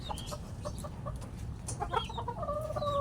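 Several farm chickens cluck nearby in a run where new chicks have hatched, with short repeated clucks and a longer drawn-out call near the end over low background noise, no talking.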